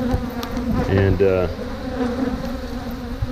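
Dense buzzing of honey bees swarming around an open, defensive hive colony, a steady close drone with a brief voice speaking over it.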